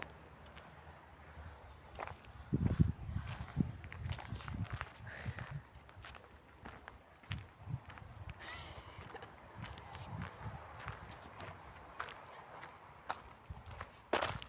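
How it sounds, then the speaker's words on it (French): Footsteps of a player sneaking around during an intense game of hide-and-seek, irregular soft thuds and scuffs with scattered clicks and knocks, fairly close and quiet, with no talking. "t'as entendu les bruits de pas ou quoi?"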